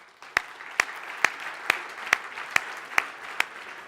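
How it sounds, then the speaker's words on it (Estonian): Applause for panelists at a conference, heard as a sparse run of sharp, evenly spaced claps, about eight in under four seconds, over a quiet room. "Teeme aplausi panelistidele."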